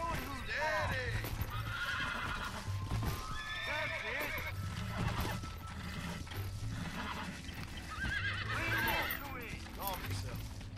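Horses neighing repeatedly in Red Dead Redemption on a farm, loud whinnies over a steady low game backdrop, with someone talking over them now and then.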